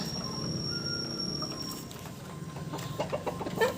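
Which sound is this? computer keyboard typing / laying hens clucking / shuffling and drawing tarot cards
laying hens clucking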